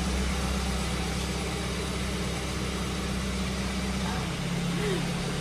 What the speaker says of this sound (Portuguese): Já liguei o carro, vou lá levar ela agora